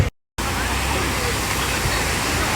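Water flowing at the Rallavaagu stream, a dense steady rushing roar close by after a brief silent gap at the start.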